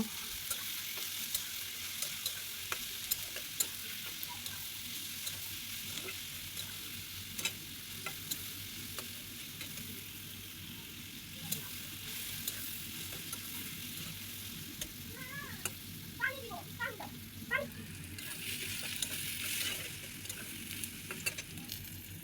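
Garlic and onion frying together and stirred continuously until brown, a constant crackling sizzle with scattered spoon taps against the pan, sustained and moderately close.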